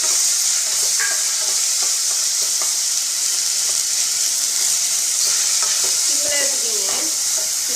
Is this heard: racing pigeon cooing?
no